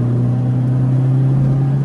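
The naturally aspirated engine of a Mazda CX-3 drones loudly at high revs, a steady, smooth hum with a strong low tone heard from inside the car, without speech.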